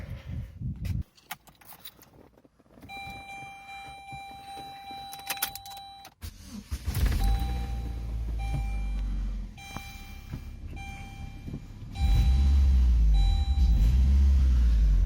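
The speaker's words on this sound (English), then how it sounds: "we're going to start the car up, make sure it works" A Saturn Ion with a check engine light on and intermittent electrical issues is started: chimes and a whirring crank lead to the engine catching around the middle, then idling with a steady low rumble that grows louder near the end.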